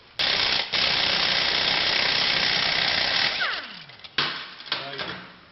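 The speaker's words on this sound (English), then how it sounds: "You can do this with a ratchet if you want, but air guns are a lot easier." A pneumatic impact wrench removes a 16 mm hub bolt on a Camoplast Tatou 4S ATV track system, a loud continuous hammering burst lasting about three seconds, then it winds down and gives two short follow-up bursts.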